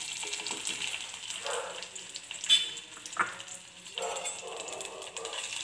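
Peeled dates sautéing in two spoons of ghee in a pan, a soft steady sizzle with occasional stirring scrapes and small clinks, close and moderately quiet, with no talking.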